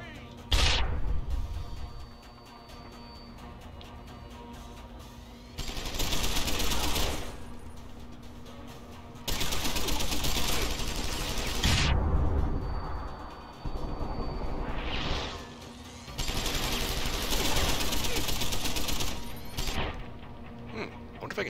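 Automated turrets firing in the video game Deus Ex Human Revolution, with repeated bursts of rapid gunfire lasting a few seconds each, separated by short lulls over a steady game hum, and a voice talking at times.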